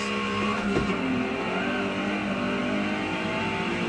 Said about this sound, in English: how much I'm on rev limiter and not feathering the gas